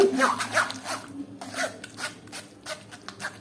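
A spoon pushes mango pulp through a sieve in a series of repeated rasping, scraping strokes, close and fairly loud, with brief pauses between them.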